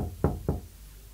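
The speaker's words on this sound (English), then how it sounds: "When he got there, he knocked at the door." Two knocks on a wooden cottage door, evenly spaced about a quarter second apart, close and fairly soft, with no voices around them.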